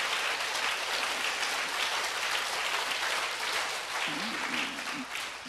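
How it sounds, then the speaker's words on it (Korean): A church congregation breaks into sustained applause after a sermon, a broad even clatter of many hands, with a brief low voice surfacing near the end. "자, 박수로 주님께 영광 돌립니다."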